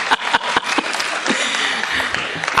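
A kavi sammelan audience at Pantnagar claps after a funny shayari recital. A few sharp claps open, then looser crowd applause follows with some talking mixed in.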